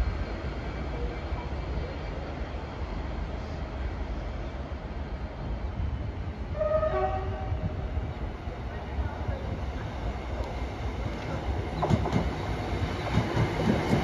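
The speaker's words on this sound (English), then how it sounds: "here comes the Royal Mail train." A Royal Mail electric mail train rumbles steadily past on the West Coast Main Line, with a constant rolling roar, faint squeals and clatter from the wheels over a long stretch.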